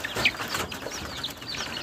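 Several chickens cluck and squawk in a busy, overlapping jumble, close by, scrambling over maggots as feed.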